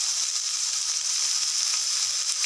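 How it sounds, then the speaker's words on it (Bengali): Raw banana frying with spices in a pan gives a steady, dense sizzle that stays close and continuous throughout, with faint stirring and no talk. "একটু ভাজা ভাজা করে নেব"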